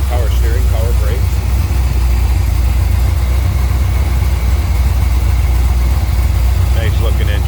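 A 1976 Chevrolet Corvette's 383 stroker V8 idles steadily with a deep, continuous low rumble, with a voice speaking faintly at the start and end.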